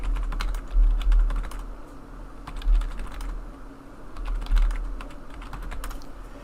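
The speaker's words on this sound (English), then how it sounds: "Just typing down the names." Steady typing on a computer keyboard while driver names are entered for an rFactor racing series, quick irregular keystrokes close by over a low rumble, with no voices.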